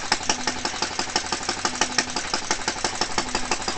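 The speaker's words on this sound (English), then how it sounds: "It's a good running engine, only a little bit of smoke." A Clinton engine on a two-wheel walk-behind tractor idles steadily after a cold start, running smoothly with a little smoke, its quick, even putter loud and close with no talk over it.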